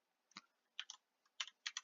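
Keystrokes on a computer keyboard, typing a short word during a Python programming lesson: a few quiet separate taps followed by two tight bursts of rapid clicks, close and clear with no talking.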